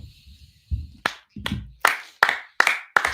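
Sharp hand claps, about seven in an irregular then quickening sequence, close and fairly loud, with a faint low murmur between the first few.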